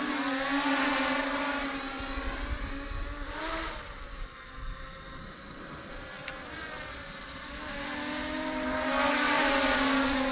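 A Holy Stone HS720R drone hovers and flies steadily, its rotors producing a continuous high, insect-like whine that swells and fades slightly as it moves, loud and nearby with no voices.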